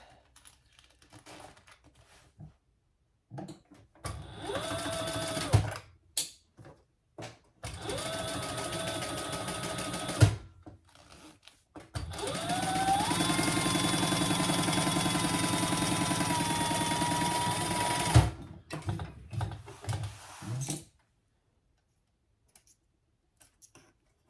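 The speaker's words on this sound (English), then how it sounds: "stitch that at the full seam allowance" A sewing machine stitches a seam on a crossbody bag in loud, close bursts, with short runs early on and one long continuous run in the middle, separated by pauses and small handling clicks.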